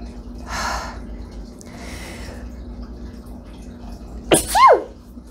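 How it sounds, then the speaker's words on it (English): A single sharp sneeze near the end, preceded by quiet breathy sounds and a faint background hum. "That was a really wonderful sneeze right there."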